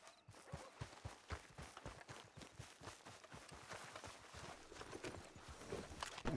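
Horse hooves clop in a rapid, even rhythm in a Western ranch roleplay video game, each hoofbeat distinct and the pace holding steady, moderately loud with no voices over it.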